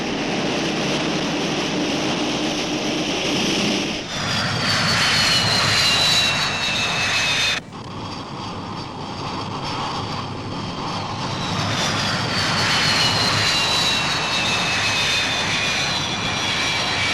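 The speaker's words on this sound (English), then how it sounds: "The Vixens join the circuit as the carrier swings into wind and picks up speed, ready to receive the returning aircraft." Sea Vixen jet aircraft roar past in a landing circuit around an aircraft carrier at sea, a loud sustained whine with sweeping pitch shifts as each jet passes.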